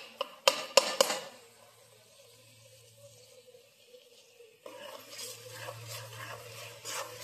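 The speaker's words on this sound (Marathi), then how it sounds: "मिक्स करून घ्यायचंय." Desi chicken curry mixture being stirred in a pot: a few sharp clinks of a spoon against the vessel at the start, then softer wet scraping and stirring sounds over a low background hum.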